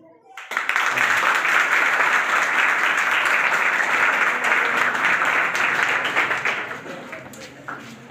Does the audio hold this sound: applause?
yes